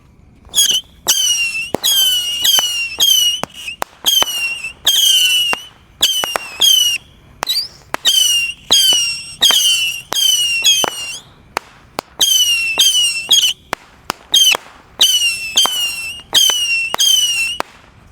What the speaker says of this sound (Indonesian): Lanjut yang kita nyalakan, di sini ada misil 25 shot.